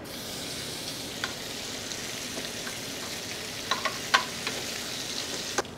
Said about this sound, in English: I'm going to start those off in some bacon